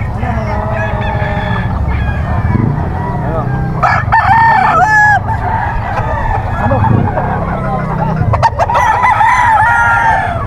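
Kanawayan straight-comb rooster crowing repeatedly among other fowl at a busy pet market, loud and close, with clucking, crowd murmur and voices throughout.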